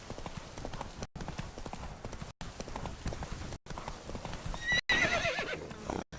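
The horse Roach in The Witcher 3, heard as rhythmic hoofbeats at a run with a whinny near the end, at moderate volume with faint game ambience behind it.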